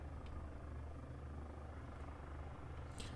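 Comanche helicopter from the video game Comanche 4 flying, a steady loud rotor and engine drone holding throughout with no talk.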